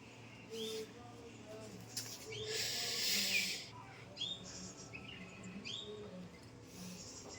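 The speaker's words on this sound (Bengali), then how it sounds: "আর এদিকে পাখির ডাক, মুরগির ডাক সব শোনা যাচ্ছে।" Birds chirp and tweet in short scattered calls on a misty hillside morning, faint and somewhat distant over soft ambient noise, with a brief hissing burst partway through.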